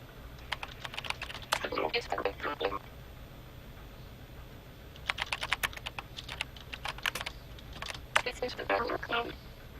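Rapid clicking keystrokes on a computer keyboard in the video game Event[0], coming in two bursts of typing separated by a quiet pause, close and crisp.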